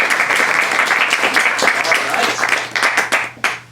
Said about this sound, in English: Let's have one more round of applause for you guys.